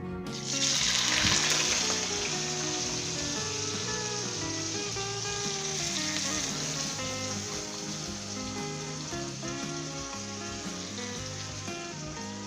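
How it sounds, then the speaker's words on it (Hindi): Onions frying in vegetable oil in a kadai for a dhaba-style moong dal tarka, a steady loud sizzle with crackling spatter running throughout, a tonal hum underneath, and no one talking. "इसमें सबसे पहले प्याज डाल दें।"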